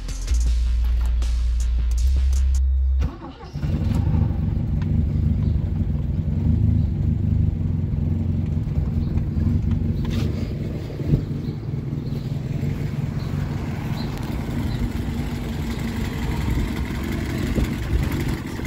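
A Chevette 1.4 engine that burns a lot of oil starts after a few seconds of low rumble, then settles into a steady, close, throaty idle with slight irregular pulsing.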